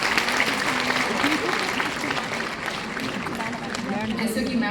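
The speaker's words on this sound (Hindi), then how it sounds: "ग्रेट, जोरदार तालियां।" An audience at a ceremony applauds loudly and steadily, a dense wash of clapping that continues under a voice speaking.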